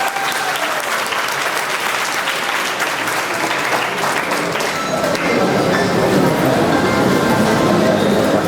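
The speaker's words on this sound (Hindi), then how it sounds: "बच्चे तालियां बजाइए।" An audience at a prize-giving event claps loudly for an adult-category first-prize winner, dense sustained applause that swells toward the end while an announcer speaks over it.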